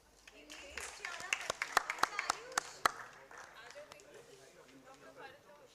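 An audience at an annual foundation day celebration claps for a performer, a short burst of scattered, uneven hand claps fading into murmuring chatter, with a voice over it.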